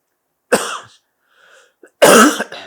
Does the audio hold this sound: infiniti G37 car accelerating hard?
no